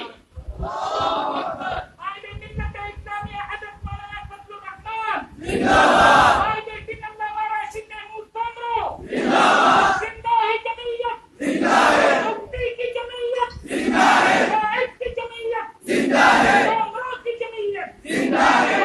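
A crowd of workers at a religious political party's convention in Karachi shouts slogans in loud, repeated bursts, each call rising and falling in turn, with voices carrying between the chants.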